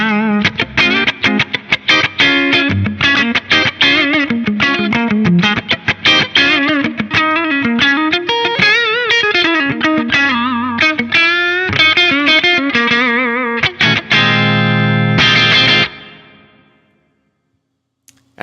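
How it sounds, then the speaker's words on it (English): An electric guitar run through a Fractal AX8's London Plate reverb plays a dense, distorted melodic phrase, loud and continuous, then stops as a bright plate tail rings out and decays into silence. "Something that isn't a hall reverb is the London Plate."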